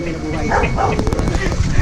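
A puppy gives a few short, yappy barks close by, mixed in with people talking and moving around it.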